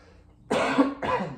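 A speaker giving a speech coughs harshly twice close to the microphone, one after another, following a moment of quiet.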